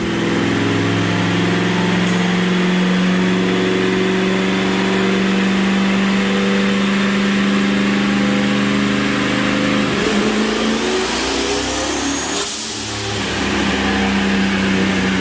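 A turbocharged Ford F150 truck engine running on E85 roars loudly at sustained high revs on a dyno, then drops off sharply as the throttle is released, with a whooshing turbo sound.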